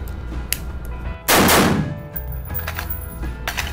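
A single loud gunshot from a CZ Bren rifle cracks sharply and close, its blast ringing briefly before fading into background rumble.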